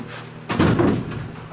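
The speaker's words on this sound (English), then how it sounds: "We're going to be moving the door over this way." A heavy door on a studio sitcom set is shifted and thuds into place, a dull knock followed by a rumbling scrape that trails off.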